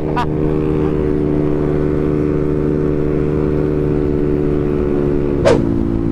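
Motorbike engine droning steadily at a constant pitch during a night ride, loud and close, with two brief sharp sounds breaking in near the start and end.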